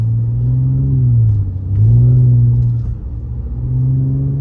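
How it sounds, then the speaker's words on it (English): Audi A6 engine heard from inside while driving, a loud low rumble rising and falling through repeated revs and gear changes, with a faint turbo whine layered over the drone. "That little turbo whining just a little bit."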